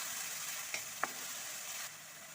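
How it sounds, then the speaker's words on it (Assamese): Onions ground to a paste frying in a little oil, a steady soft sizzle with two brief clinks of a spoon near the middle, no voices. "পিঁয়াজখিনি অকণমান তেলত ভুনি ল'ম।"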